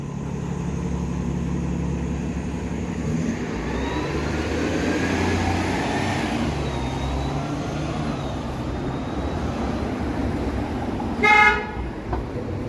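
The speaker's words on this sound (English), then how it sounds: "Another streetcar honking." A Toronto streetcar gives a short horn toot at Broadview and Dundas on a Friday evening, heard over steady road traffic rumble and passing vehicles, with no talk.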